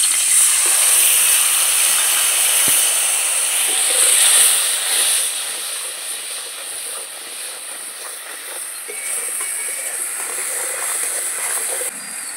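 A spice paste mixed with water sizzles loudly as it hits the hot pan for a Bangladeshi tangra fish curry with eggplant, potato and bori. The strong, steady hiss eases to a softer, continuous sizzle partway through.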